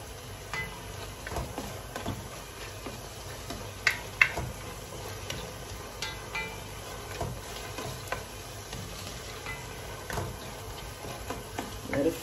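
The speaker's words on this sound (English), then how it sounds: "we're gonna let that fry up for a little bit" Fish and okra stew frying in a pan, a steady low sizzle with scattered small crackles and faint utensil ticks, no voices.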